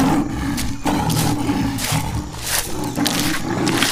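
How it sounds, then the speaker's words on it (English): A lion roars loudly and close, in sustained rough bursts that swell and fade over several seconds, with no talking. "L for lion."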